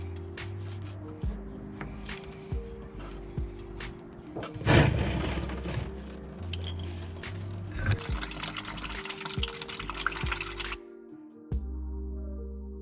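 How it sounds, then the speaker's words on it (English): Coolant drains and splashes from a radiator hose on a Nissan S14 with an RB25DET engine, with a sudden gush, irregular trickling and a rushing stretch mixed with knocks and handling noises close by. "Try not to shoot coolant everywhere."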